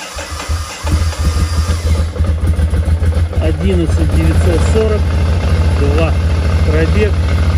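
A Ducati Monster 696 motorcycle fires up after a short pause and settles into a steady, close, low-pitched idle rumble, while a voice talks over it in the second half.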